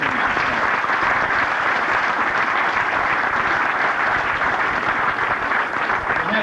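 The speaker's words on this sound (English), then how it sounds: "So special applause for the" Audience applause at a football club tribute night honouring a 1982 premiership team, dense sustained clapping from a large crowd at an even level throughout.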